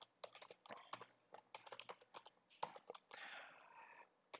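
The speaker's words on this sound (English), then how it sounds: "I'll just type" Rapid keystrokes on a computer keyboard, soft close clicks in quick irregular bursts with a short pause and a longer rustling stretch near the end.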